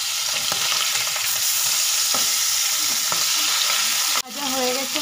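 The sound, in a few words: fish frying in oil in a pan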